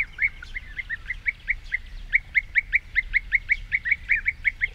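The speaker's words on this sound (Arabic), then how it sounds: "هنا حيث الخضرة والمياه، تتعالى أصوات الوروار معلنة عودتها" A bee-eater repeats short, rolling trilled calls in a quick, steady series, clear and fairly close over a low background rumble.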